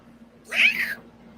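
A single cat meows once, a short rising-then-falling cry lasting about half a second, close and fairly loud in an otherwise quiet room with a low steady hum.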